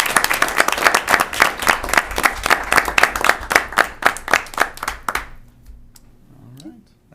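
Audience applause at a school board meeting, a steady run of claps lasting about five seconds before fading out, leaving a quiet room with faint murmurs.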